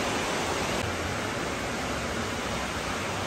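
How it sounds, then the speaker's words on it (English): Heavy rain pouring down steadily outdoors beside a semi truck, a dense unbroken hiss filling the whole moment with no pauses and no voices. "It is pouring rain."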